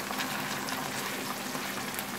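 Potatoes frying in an air fryer give a steady, even sizzling hiss with a low hum underneath, close and continuous with no talking.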